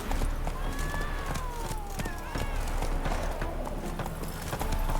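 A horse, Roach, gallops in The Witcher 3: Wild Hunt, with a steady clip-clop of hooves close up, an occasional whinny and brief speech over the hoofbeats.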